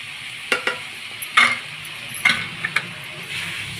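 Taro root and eggplant with chili powder and turmeric being stirred in a pan, a soft sizzle underneath a few distinct scraping and clinking spoon strokes against the metal, close and without speech.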